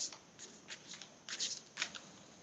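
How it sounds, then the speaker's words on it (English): Tarot cards being shuffled by hand, several quick crisp riffling bursts close up, separated by short pauses, with no talk over them. "let me just shuffle for Emma"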